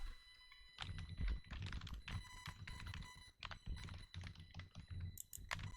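Rapid, close clicking of keys on a computer keyboard in irregular bursts, faint against a steady background hum, with no speech.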